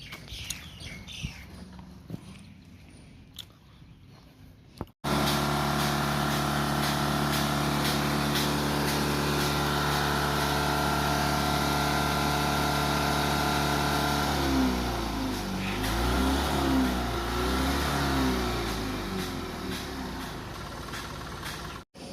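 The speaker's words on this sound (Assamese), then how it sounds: "বাকী চাওঁ গাড়ীখন চালোঁ বাৰু" A diesel Maruti Super Carry pickup engine bursts into a loud, steady droning run after a few quiet seconds, then shifts pitch as it revs and pulls away, heard close with no speech.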